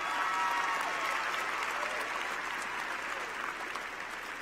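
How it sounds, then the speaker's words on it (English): Audience at a university commencement ceremony applauding, a dense, steady wash of clapping from a large crowd in a hall, sustained and gradually tapering slightly. "Please give them a round of applause."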